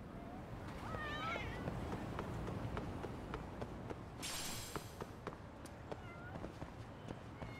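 A cat in the video game Lost Judgment gives a couple of short, rising meows early on, followed by steady footstep-like taps and a brief rush of noise, all fairly faint.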